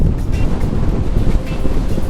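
Strong gusting wind on Lake Sakakawea batters the microphone during a windy walleye fishing trip in a boat, a loud, continuous low rumble with choppy water sounds and no voices.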